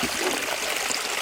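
Water splashing at the clootie well at Munlochy, a steady watery trickle and splash filling the clip, fairly close, with a little faint voice underneath.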